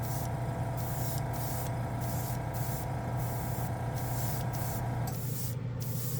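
Born Paint chrome spray paint hisses from an aerosol can in a steady, continuous close spray with brief rhythmic pulses, running alone without talk.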